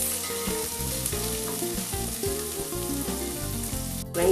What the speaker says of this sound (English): Keep stirring from time to time while you're frying the rice.